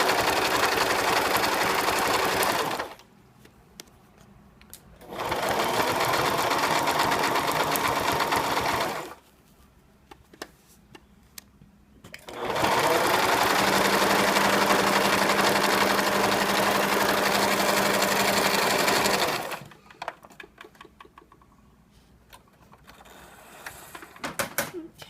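Sewing machine stitching a cloth diaper lining in three long bursts of steady whirring, each stopping into a short quiet gap before the next run and a few faint clicks at the end.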